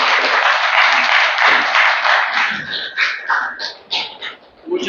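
Audience applause at a graphic novel presentation, a steady wash of clapping that thins into scattered, fading claps toward the end.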